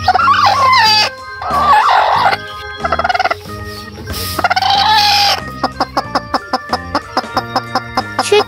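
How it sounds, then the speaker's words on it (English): Chicken clucking and a rooster crowing, heard as several loud, close bursts of crowing followed by a run of short, evenly spaced clucks with no talk. "Chicken."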